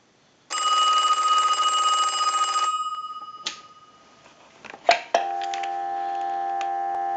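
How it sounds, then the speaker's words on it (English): A single loud ring bursts from a Western Electric Trimline rotary telephone being repaired, followed by handset clicks and clunks and then a steady dial tone. "I'll let it ring one more time"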